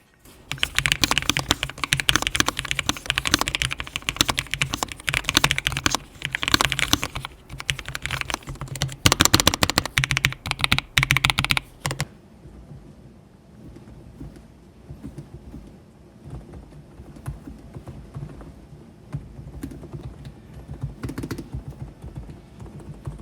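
Rapid, continuous typing on mechanical keyboards, dense and loud at first, then noticeably softer and more muted clacking from a Lofree silent mechanical keyboard for the remaining stretch.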